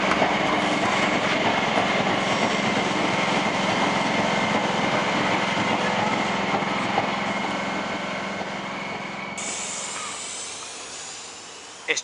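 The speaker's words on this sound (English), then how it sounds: "S28 is now departing platform number 1 for a Campbelltown service" A Sydney S set electric train pulls away from a station platform, a loud steady rumble and motor whine filling the air, then gradually fading and thinning out as the carriages move off into the distance.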